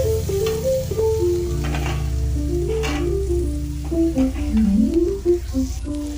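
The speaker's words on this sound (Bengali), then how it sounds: "এই দেখো মাংসর আলু ভাজছি" Potatoes for a meat curry sizzle steadily in hot oil, a continuous close frying hiss running under melodic background tones throughout.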